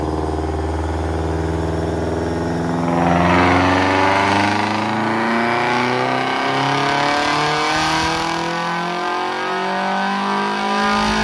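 A car engine revs up from a low idle, climbs through a swelling roar, then settles back, loud and close with no voices.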